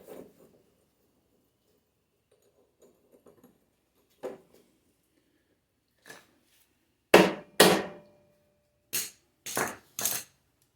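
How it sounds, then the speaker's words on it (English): A hammer strikes a wedge bolt holding the axle of an old Snapper mower, a few faint taps then several sharp, loud metallic smacks in an irregular pattern near the end, with quiet gaps between. "Give it a little smack."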